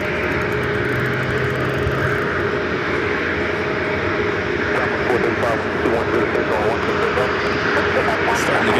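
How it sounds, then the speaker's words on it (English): A Southwest Boeing 737-700 takes off from LAX, a loud sustained jet roar with a faint tonal whine layered over it, continuous throughout and close by. "And next takeoff on 1 Southwest, flight 435 heading to Kansas City"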